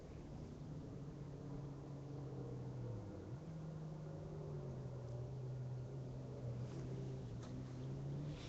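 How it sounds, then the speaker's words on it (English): A rally car engine climbs a hill on a special stage of the 2013 Sandblast Rally, a steady mid-distance droning hum that holds its pitch with a brief dip partway through. "Another car starting to come up the hill."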